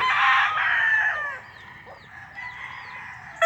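Chickens from a breeder's flock crow and cluck nearby, a loud rooster crow opening, then softer clucks and calls, and a fresh crow starting at the end, with no talk.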